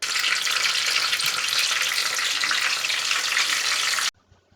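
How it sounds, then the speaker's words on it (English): Batter-coated chilli bajji fry in hot oil with a loud, even bubbling sizzle that holds steady for about four seconds and then cuts off abruptly. "we have to add it into our hot oil slowly and we need to fry it well"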